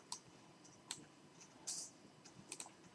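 Several sharp computer mouse clicks at a desk while saving photos, spaced irregularly, with a brief rustle in the middle; quiet and close, with no talking.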